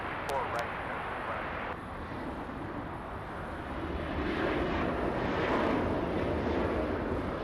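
Turkish Airlines airliner on a heavy takeoff, a broad jet engine roar that swells louder toward the end, heard from a distance.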